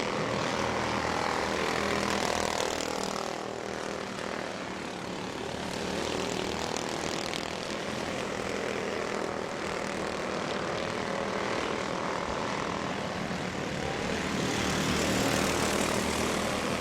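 Mini Cup race cars run side by side down the backstretch at Auburndale Speedway, their engines a loud, steady droning roar that swells slightly near the end, with no talk.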